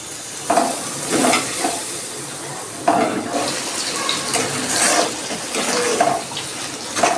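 A splash of water hits frying cumin, coriander, turmeric and chilli powder, raising a strong hiss, then repeated rhythmic stirring strokes scrape through the sizzling masala, close and fairly loud.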